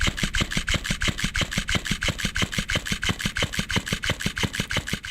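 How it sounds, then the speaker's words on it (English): A motorized dancing fish cat toy buzzes steadily with a fast, even pulsing flap, close and continuous with no pauses or voices. "And this is the sound of the dancing fish."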